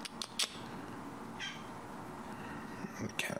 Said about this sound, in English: The cat's back again. Jeez, cat.